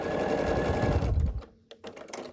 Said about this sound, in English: we are going to sew the stem